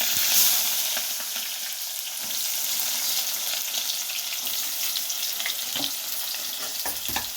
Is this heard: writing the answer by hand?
no